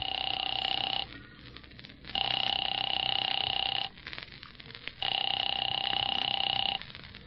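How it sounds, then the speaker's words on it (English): Old telephone ringing through an earpiece in a dramatic radio scene: three long electronic rings, each about two seconds, separated by short quiet gaps with a faint line hum. "Phone seemed to ring forever."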